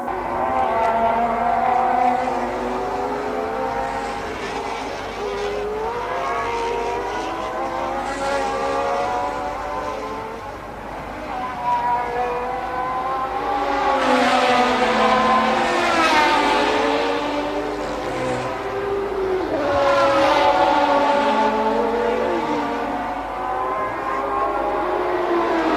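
A Formula 1 race car engine, driven by Nigel Mansell at the 1988 San Marino Grand Prix, whines steadily with pitch sweeping up and down, swelling louder as cars pass, mixed with other engines and no talk.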